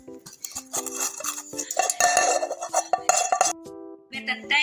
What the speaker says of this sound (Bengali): আমি একটু এই বাটিটাতে একটু ঘি মেখে নিব